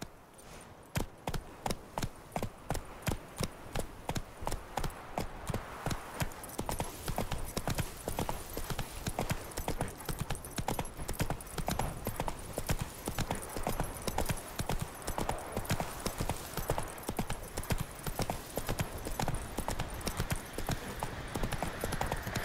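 A horse gallops steadily in The Witcher 3, rapid rhythmic clip-clop hoofbeats continuing throughout at moderate volume, with brief faint game sounds and no talk.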